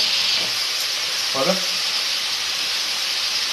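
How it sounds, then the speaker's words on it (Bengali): Spice masala with turmeric and chili powder sautéing in oil gives a steady close hiss and sizzle, with a brief utensil scrape partway through. "এবার এই মশলাটাকে আমি কষিয়ে নেব। যতক্ষণ না তেল ছাড়ে ততক্ষণ আমি ভালো করে কষিয়ে নেব।"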